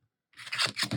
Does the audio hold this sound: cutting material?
yes